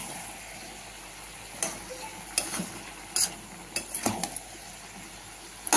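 Prawns with sugar and green chillies stir-fried in a pan, a soft background sizzle broken by a run of sharp spatula clinks and scrapes against the pan, close and irregular.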